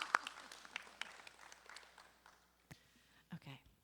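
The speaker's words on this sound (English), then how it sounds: "Can we please applaud?" A meeting audience gives a short round of scattered applause, faint and thin, with a few sharp claps at the start that thin out and trail off into quiet.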